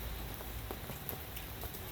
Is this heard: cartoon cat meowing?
no